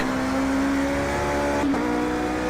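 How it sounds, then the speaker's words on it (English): A high-pitched Toyota TS050 race car engine in the video game Project Cars 2 holds a steady whine, then drops briefly as if shifting, loud and close. "It sounds more V6, high-pitched Euro V6, Japanese V8."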